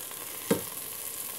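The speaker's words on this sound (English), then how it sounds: "Again, I'll start to stir." Sea bass curry mixture sizzling in a pan, a steady hiss of frying broken by a single short scraping stir.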